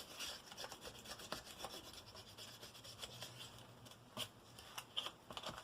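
A stylus rubs and scores across card while making a Valentine's card, quiet close scratchy strokes in an irregular rhythm with a few sharper scrapes, no talk.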